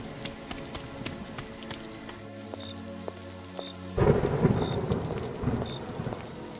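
Steady rain pattering on surfaces with scattered drops, joined by a heavier downpour roar partway through; distant thunder rumbles low beneath.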